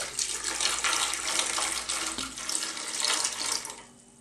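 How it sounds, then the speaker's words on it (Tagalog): Water poured into a cooking pan for a Filipino pinangat na isda with calamansi, garlic and ginger, a steady close splashing gush that runs for about four seconds before trailing off. "Lalagyan na po natin siya ng konting"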